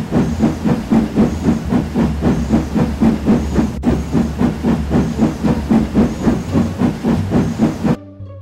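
Steam engine puffing steadily at a regular rhythmic chuff with hissing steam, loud and continuous for about eight seconds before cutting off, with no talking.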